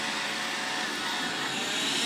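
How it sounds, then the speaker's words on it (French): Dreame L10s Ultra robot vacuum and mop running, a steady broadband whooshing drone of suction motor noise that holds constant and loud throughout, with no talk over it. "présentation du robot aspirateur laveur de sol de la société Dream, le Dream Boot L10S Ultra"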